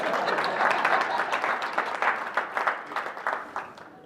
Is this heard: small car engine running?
no